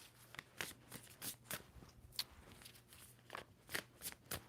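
A deck of tarot cards is shuffled in repeated quick riffles, each a crisp papery burst with short pauses between, fairly close and with no voice over it.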